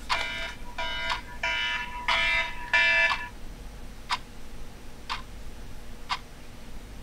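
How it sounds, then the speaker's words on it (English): An electronic alarm beeps in five rapid, harmonic bursts, then three sharp single beeps spaced about a second apart, loud and close in a quiet room. "the horrific alarm went off"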